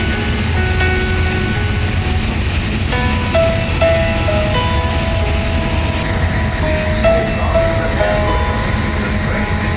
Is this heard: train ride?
yes